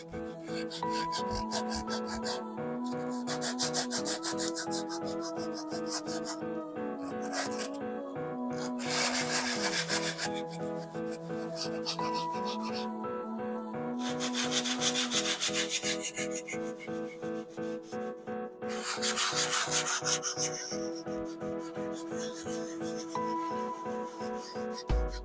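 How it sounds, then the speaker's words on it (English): Concrete is hand-sanded with 120 grit sandpaper in a long stretch of rhythmic back-and-forth rubbing strokes, close and steady, with soft music underneath. "So here I'm just using 120 grit sandpaper,"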